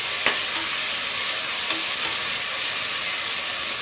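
Basmati rice, three tumblers of it, poured into a pot of cooking tomato masala for a mutton kurma meal, giving a brief rushing patter followed by steady close sizzling and stirring with no talk.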